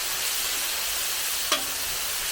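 Stir-fry noodles with chicken, vegetables, chopped salad mix and Asian vinaigrette sizzle on a hot Blackstone griddle, giving a steady close hiss with one brief scrape or clank near the end.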